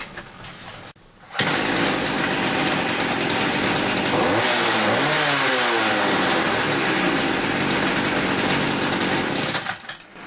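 A Stihl KM56RC Kombi two-stroke engine runs after a carburettor tune, starting abruptly and holding a loud, steady high-pitched drone with a brief rev swell in the middle before cutting off near the end.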